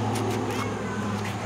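A white cat meowing, a few short mewing calls close by over a steady low background hum.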